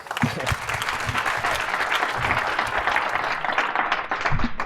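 Applause after a startup pitch: a roomful of people clapping steadily and fairly close, with individual hand claps standing out in the dense wash of the crowd.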